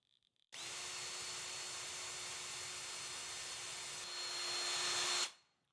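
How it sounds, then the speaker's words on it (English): A cordless power drill boring pilot holes for mounting screws while a frameless shower door is installed, a close, loud, steady whine that starts abruptly, runs about five seconds with a rise in pitch near the end, then stops. "I'm going to drill pilot holes for the mountain screws."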